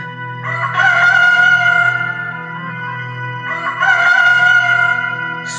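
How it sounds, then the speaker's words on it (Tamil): A rooster crows twice, loud and close with long harmonic calls, during an outdoor sound-and-light Passion of Jesus performance, over a steady low background drone. "சேவல் கூவுமுன்"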